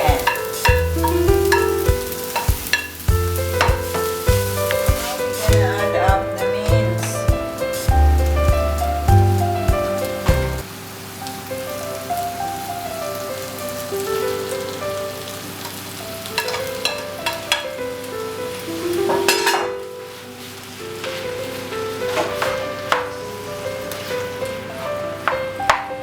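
Chopped tomato is stirred and sizzles in a frying pan while making Greek moussaka. A steady close frying hiss runs throughout, with scraping stirs and utensil clinks that ease off in the second half.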